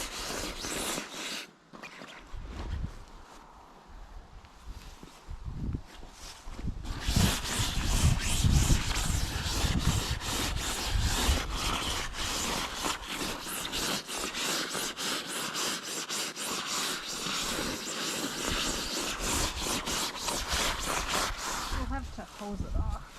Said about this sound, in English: So she's just taking a brush and obviously giving it a good brushing.